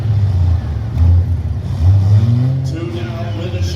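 Demolition derby car at a county fair pit side, engine running rough on about four of six cylinders, uneven low revving swelling and dipping under a loud announcer's voice.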